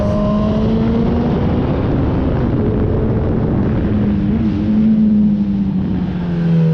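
A Kawasaki ZX-10R sport motorcycle ridden through tight corners on a touring road in Bali, its engine droning loud and steady with rising and falling pitch as it eases off and accelerates, heavy wind rush throughout.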